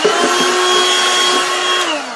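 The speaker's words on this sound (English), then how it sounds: "And then simply vacuum up the shavings." A vacuum cleaner runs steadily and close, sucking up lacquer shavings scraped from the cabinet of an RCA Radiola 60 radio, a loud continuous whine that drops slightly in pitch at the end.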